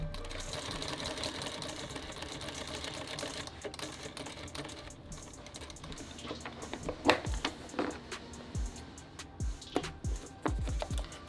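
An industrial sewing machine runs through thick foam in a shop, starting with a fast, even mechanical chatter and then breaking into irregular bursts, thumps and stitch knocks as the material is worked through.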